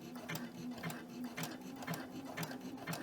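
Close zigzag stitching from a sewing machine with a double needle, set to width 3 and length 2: a steady, rapid mechanical chatter with evenly spaced clicks about twice a second, close and alone.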